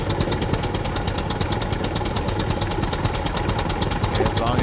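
A tractor engine in the survival game SCUM runs steadily with a loud, rapid knocking chug and constant mechanical vibration, close and continuous for the whole stretch.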